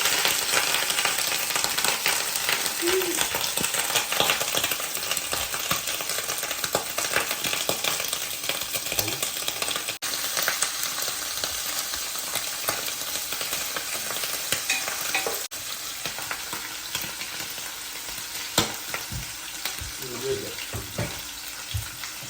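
Wild boar ears frying in hot oil with salt and ghee give off a steady loud sizzle with scattered pops and stirring, running continuously for over twenty seconds.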